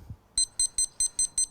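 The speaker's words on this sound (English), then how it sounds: "we're going to put the timer on." An electronic kitchen timer beeps in a fast, even series of six sharp tones near the microphone during cooking of chicken in a restaurant kitchen.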